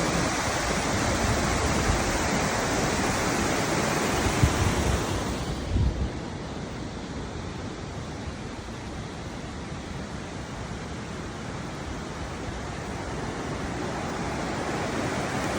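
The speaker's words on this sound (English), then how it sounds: "So if you can peek through these trees and look at this little waterfall, how pretty is that?" A small waterfall at Lookout Creek rushes in a steady, broad roar of falling water, continuous throughout with slight wind buffeting and no talking.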